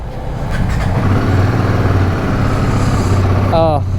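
A Royal Enfield Himalayan 450 motorcycle idles after its first service, a steady low rumble continuous throughout, close by, with a brief higher whine near the end.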